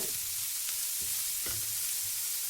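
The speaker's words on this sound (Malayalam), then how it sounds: "ഇനിയും കോളിഫ്ലവറും കൂടി മിക്സ് ചെയ്യാം." A cauliflower mixture is stirred in a hot pan, a continuous frying hiss with a few soft scrapes and clicks of the spoon, close by, with no talking.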